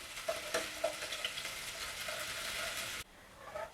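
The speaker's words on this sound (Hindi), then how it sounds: "इसमें डालेंगे हम 1 मीडियम साइज की चॉप की हुई प्याज और इसे फ्राई करेंगे" Chopped medium onion frying in hot ghee for Punjabi-style sarson ka saag, a steady close sizzle with a few sharp stirring clicks, dropping to a quieter hiss near the end.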